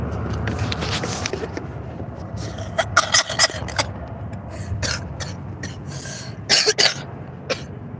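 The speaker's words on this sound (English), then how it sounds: "Y'all excuse me with my cough." Several short coughs and throat-clearing bursts come in scattered clusters over a low background hum, close to the listener.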